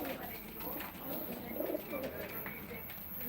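Pigeons coo repeatedly at a pigeon auction, their soft, throaty calls rising and falling close by over a busy room tone, with people talking in the background.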